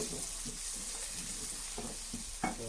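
Chopped onion frying in a pan for chana masala, a steady soft sizzle with a few light stirring scrapes and clinks, close and fairly quiet, with no talking.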